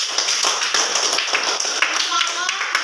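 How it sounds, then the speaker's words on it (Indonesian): A group of people in a classroom-style gathering claps hands together, dense rapid close slaps forming lively applause that carries on steadily. "Tepuk tangan untuk kita semua."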